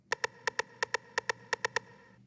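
A sampled drum kit pattern plays in groups of two and three crisp, bright hits with short pauses between the groups, close and clear, with no voices.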